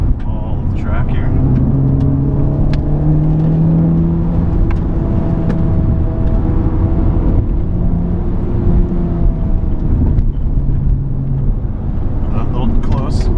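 Engine of a Honda Civic Type R roars loud and close on Eagles Canyon Raceway, a sustained drone rising and falling through gear changes, with talk over it.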